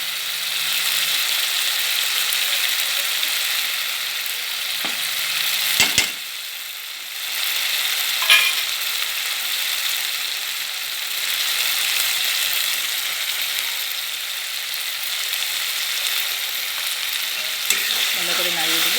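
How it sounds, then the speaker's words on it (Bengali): Chicken curry is stirred in a hot pan after salt and turmeric go in, giving a continuous close sizzle and frying hiss. Brief scraping knocks come near the middle and at the end. No one talks. "ভালো করে নাড়িয়ে দেবো।"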